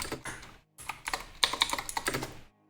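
Code being typed on a computer keyboard: quick bursts of crisp key clicks in short clusters separated by brief pauses, close and fairly quiet.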